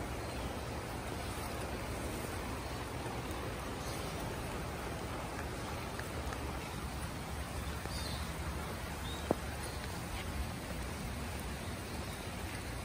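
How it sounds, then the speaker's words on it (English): Rain falls steadily, an even hiss that stays constant throughout with no other clear sounds. "Oh, it's raining."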